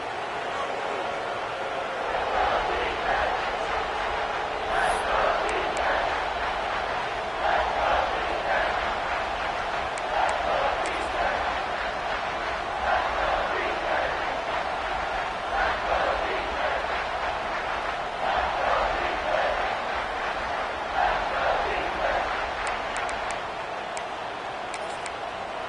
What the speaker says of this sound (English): The crowd electric, trying to help Tech on this third down.